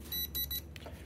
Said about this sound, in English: you should hear that beep signal as well